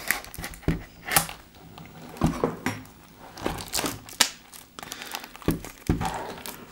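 A wrapped box of 2014 Topps Strata trading cards is torn open, with close, irregular crinkling and ripping of plastic wrap and cardboard in uneven bursts.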